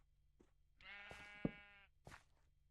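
A sheep in the Minecraft video game bleats once in a drawn-out, wavering call, with soft clicks and faint shuffling before and after in a quiet scene.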